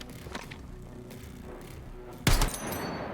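A rifle fires in Battlefield 6 with one sharp, loud shot near the end, preceded by faint distant pops and background game noise.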